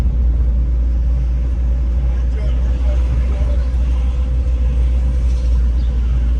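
A car driving up Lancaster Avenue through a Philadelphia shopping street, its steady low engine and road rumble continuous and close, with faint city background noise.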